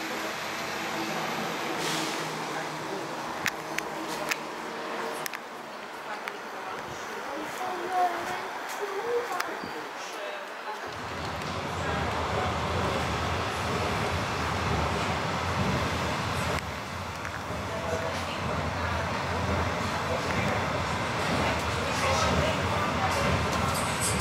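Busy rail station ambience at Bernau station, Germany, with broadband rumble and hiss, a low train drone swelling midway, distant clatter and faint talk mixed in.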